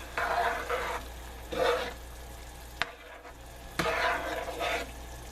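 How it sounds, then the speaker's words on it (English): A Spanish dish frying in a pan is stirred, with rough scraping sweeps over a steady low sizzle and a single sharp knock of the utensil against the pan midway. "now I'm going to stir it up some"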